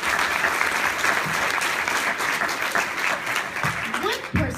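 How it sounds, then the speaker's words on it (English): Steady, dense applause from a large crowd at a fashion show fills the whole stretch, loud and continuous. "Let's give all the sponsors one more big round of applause for their support."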